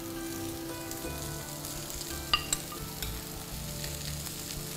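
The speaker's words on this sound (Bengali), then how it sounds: "এখন আমি চাল দিয়ে দিব, যেহেতু আমার চালটা আগে দিয়ে সেদ্ধ করা।" Previously boiled rice is stirred into a pan of frying mixed vegetables, giving a steady sizzle with a few scraping stirs and light clicks. The sound is close and continuous, with no talk.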